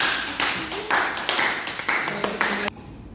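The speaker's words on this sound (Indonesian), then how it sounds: "Tepuk tangan dulu untuk Mbak Ratna." Classmates clap for a student who answered correctly in a classroom math lesson, a dense burst of applause running about two and a half seconds before cutting off.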